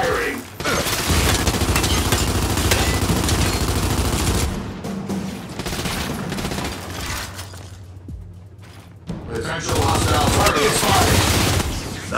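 Sustained automatic gunfire from Gears 5, a dense loud volley rattling for several seconds, dropping briefly, then resuming at full intensity, with mechanical weapon clatter throughout.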